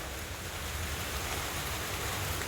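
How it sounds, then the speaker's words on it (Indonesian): Steady rain falling over a home vegetable garden, a dense even hiss of drops with no pauses, moderately loud and continuous throughout. "Hujan lagi,"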